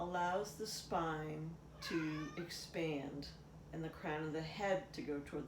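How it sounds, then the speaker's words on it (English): A cat meows several times close by, its cries overlapping with a calm speaking voice giving chair yoga instructions. "And that was my cat"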